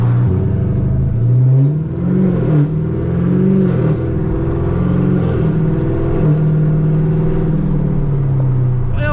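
Chevrolet Camaro ZL1 V8 rumbling steadily from inside the cabin on a night drive, a deep, loud engine drone that swells with revs and settles back, continuous throughout.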